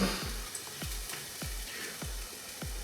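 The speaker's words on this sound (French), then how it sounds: "je vais déglacer au soja" Thai-style chicken deglazed with soy sauce crackles in a hot pan, with a rapid series of soft knocks from the utensil repeating about twice a second over a steady sizzle.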